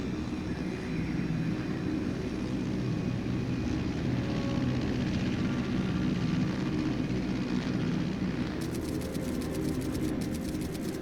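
An aircraft drones steadily in the Metal Gear Solid Delta video game, a loud continuous engine rumble and roar with no talking, and a faint rapid ticking appears near the end.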